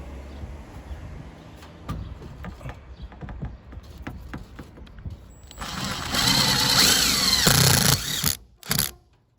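A power screw gun drives screws into a work van's roof while installing a roof fan, a close, loud buzzing whir that ramps up and cuts out after scattered clicks and handling knocks.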